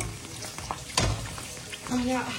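Steady frying sizzle of fuchka (puffed dough shells) in hot oil, a soft constant crackle with a few clinks and stirring sounds, fairly close.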